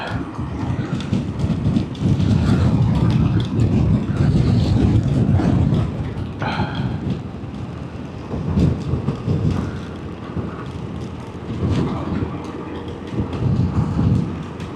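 Heavy rain roars close by with low rumbling thunder rolling beneath it, swelling and easing over time, no voices.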